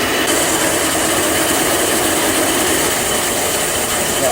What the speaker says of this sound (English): I'm just cutting this driveline